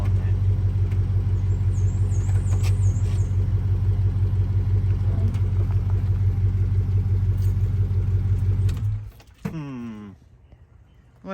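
A car with a failing transmission idles in a steady low rumble with no gear change, then the engine cuts off abruptly, leaving a short whirring wind-down and near silence.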